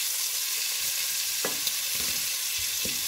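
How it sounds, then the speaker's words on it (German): Chicken pieces fry in a pan, browning on their second side, a loud, continuous sizzle with a few soft knocks and stirring scrapes rising through it. "Brate ich jetzt die zweite Seite."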